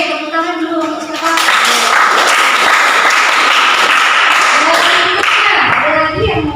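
Clapping in a classroom, a group of students applauding together in a dense, steady patter that swells after the first second and holds loud to the end, with voices faintly underneath.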